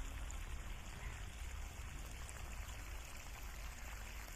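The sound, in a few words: water pouring onto vegetable beds while watering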